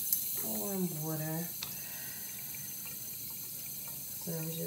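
Warm water runs from a tap over dirty makeup brushes being washed at a sink, with steady splashing and gurgling in two bursts separated by a quieter gap.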